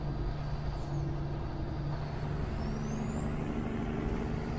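A Peterbilt 357 heavy-haul truck in a video game rumbles steadily at close range, its engine brake building a rising high whine over the low engine drone.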